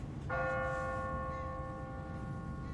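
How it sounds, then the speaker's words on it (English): A single church bell strikes in The Walking Dead video game, a clear ringing tone that rises at once, then hangs and slowly decays over a low background hum, with no talk. "what kind of church bell goes off at 20 past the hour?"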